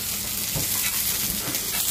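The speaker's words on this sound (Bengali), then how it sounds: "আর এদিকে হচ্ছে আবার করলা ভাজা।" Bitter gourd fries in a pan with a steady, close hiss and crackle of hot oil that continues evenly throughout.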